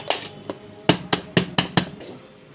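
A set bread sweet is turned upside down out of its mould onto a dish, giving a handful of sharp clinks and knocks of metal and crockery, close and spaced unevenly over a couple of seconds.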